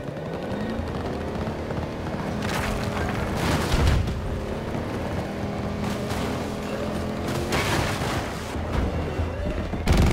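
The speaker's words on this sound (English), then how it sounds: "Charges set! Guard until they blow!" Explosive charges going off during a Rush match in Battlefield 2042, with heavy booms and low rumbling at about 2.5, 4 and 10 seconds over a constant dense wash of battle noise and distant gunfire.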